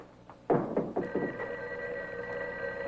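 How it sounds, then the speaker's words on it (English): Telephone bell ringing in a 1954 film noir crime drama: a few loud, close rings in quick succession followed by a sustained ringing tone, with no talking. "Pardon me, my phone's ringing."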